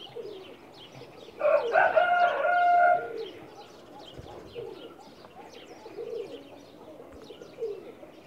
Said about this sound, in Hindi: ये दूसरे कबूतर का शौक़ करवाते हुए उस्ताद मताज़ साहब